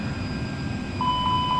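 A steady electronic warning tone sounds in an Airbus A321neo cockpit during a fire warning test, with a continuous low cabin hum underneath.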